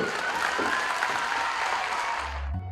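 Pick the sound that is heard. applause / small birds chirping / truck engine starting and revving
applause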